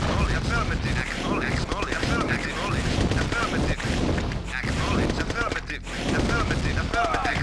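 Continuous rattling gunfire and explosions from the Command & Conquer Red Alert strategy game, dense and loud throughout, with clipped unit voice responses mixed in over the battle noise.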